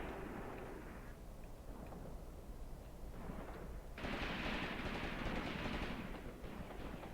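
German machine gun fire in the tactical war game Graviteam Tactics, set around Kharkov in 1942, comes as a continuous rattle of automatic fire blended with the rumble of battle, growing louder and harsher partway through.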